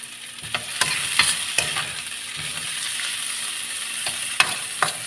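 Tomato and long green chili hit a hot pan for sotanghon, a steady sizzle broken by several sharp scraping stirs and clatters of the utensil, close and alone with no talk.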